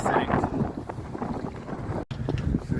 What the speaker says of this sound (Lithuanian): Reiškia, vėjas yra per didelis